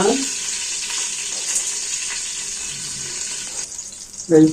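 Bay leaves and garam masala fry in hot oil for bhuna khichuri, giving a steady close hiss and sizzle that runs throughout, with a brief voice near the end.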